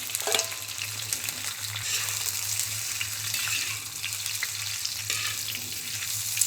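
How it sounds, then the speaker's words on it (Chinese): Braised pork is tossed back into a hot wok with ginger and shallots, making a loud, constant hissing sizzle broken by scraping stirs, close up and without speech. "猪肉回锅翻炒"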